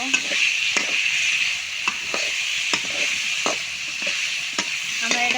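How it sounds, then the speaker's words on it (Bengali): Bamboo bitter gourd fries in a hot pan with a continuous sizzle, while a spatula stirs and scrapes in regular, distinct knocks close by. "আমরা এটা কিছুক্ষণ ভেজে নিব।"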